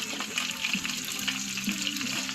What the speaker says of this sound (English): So what you do is just place the steak in there.